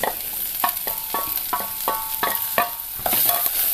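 Tomatoes fry with ginger and garlic in coconut oil, a dense crackling sizzle broken by a regular series of metallic spoon scrapes and taps against the pan, close and loud.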